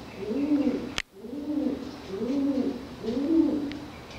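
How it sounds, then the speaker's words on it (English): A bird, likely a pigeon, coos inside a brick fort with a fire-damaged former wooden floor, giving four repeated soft, low cooing phrases in a steady rhythm, close and echoing, with a sharp click near the start. "I think it's that bird."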